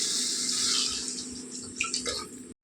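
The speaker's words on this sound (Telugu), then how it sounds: "నీళ్ళలో మనం తగినన్ని నీళ్ళు వేసుకుందాం." Water poured into a cooking pot while making pool makhani masala curry, a steady splashing pour that runs for a couple of seconds, then tapers off and stops.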